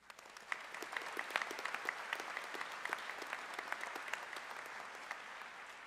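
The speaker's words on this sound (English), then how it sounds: "Let's take a moment to recognize and applaud their remarkable achievements." A graduation ceremony audience applauds scholar athletes at SJR State College, a steady, distant wash of many hands clapping alone for several seconds, fairly quiet.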